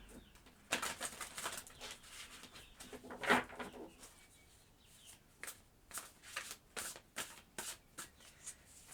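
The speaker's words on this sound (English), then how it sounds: "Last shuffle." A deck of tarot cards is shuffled repeatedly in short riffling bursts, with soft flapping card sounds coming close and fairly quiet, no voices.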